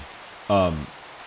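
Steady rain falls in Minecraft, a soft continuous hiss that runs the whole time, with a short voiced sound rising over it partway through.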